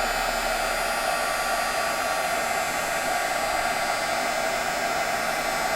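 Heat tool blowing a steady, loud, even hiss of hot air, melting detail embossing powder on a card, unbroken and with no voices over it.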